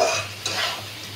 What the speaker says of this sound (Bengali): দিয়ে ভালো করে আমাকে এই মশলাটাকে ভাজা ভাজা করতে হবে